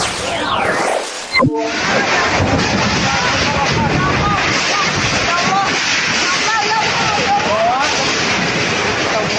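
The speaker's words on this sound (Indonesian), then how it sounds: "Hujan deras disertai angin kencang sempat terjadi di beberapa wilayah Kabupaten Bogor" Strong wind gusting through a heavy rainstorm in Bogor, a loud, continuous roar and buffeting rush across the whole stretch, with a sharp thud near the start and no talking.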